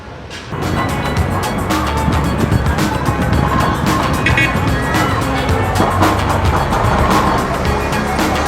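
Steady roar of garbage trucks and other vehicles passing through a busy Cairo entry road, with engine rumble and road noise running continuously at close range for the whole stretch.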